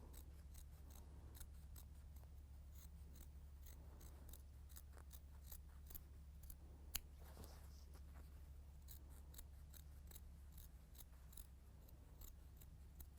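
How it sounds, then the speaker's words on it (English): Scissors repeatedly snipping the excess fabric of a scallop ruffled pillow: quiet, rapid crisp cuts in a steady rhythm over a low hum. "So you just keep cutting, cutting."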